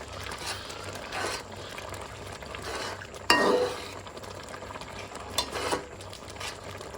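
Carrot halwa mixture being stirred in a pan, soft scraping and wet shuffling strokes at a low level, with a louder clatter partway through.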